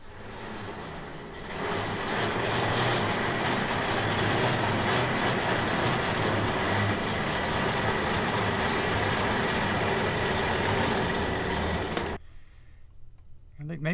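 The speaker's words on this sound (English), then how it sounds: "I found a tow truck with an electric winch." Electric winch on a tow truck running: a steady mechanical whine and grinding hum that starts after a quiet second, holds evenly for about ten seconds, then cuts off, leaving faint background noise.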